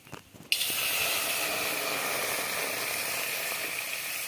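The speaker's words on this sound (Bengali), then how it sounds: "ফুলকপি সিদ্ধ করার জন্য কড়াইতে দিচ্ছি আমি জল" A sudden, steady rushing hiss of water pouring into a wok to boil cauliflower, starting after a brief quiet moment and continuing evenly without pause.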